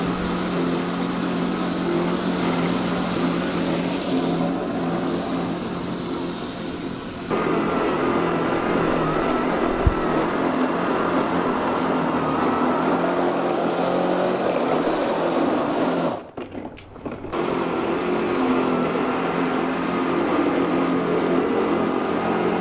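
A Ryobi power dethatcher raking a dry patch of lawn runs as a steady, loud motor drone with a whirring rake, continuous throughout with a brief dip near the end and no talking.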